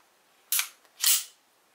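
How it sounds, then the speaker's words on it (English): A Walther P38 pistol's slide is released during field stripping, giving two sharp metallic clacks about half a second apart, close and crisp in an otherwise quiet room. "Release the slide."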